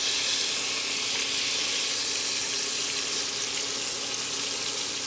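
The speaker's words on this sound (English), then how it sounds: "We're just searing a little bit on either side of that grease." Eye of round Swiss steak searing in grease in a cast iron pan, a dense, steady sizzle that hisses continuously without pause.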